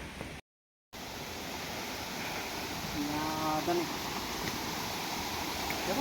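Loud, steady rushing of a large body of flowing water fills the scene as a continuous broadband roar, with a voice speaking briefly over it partway through.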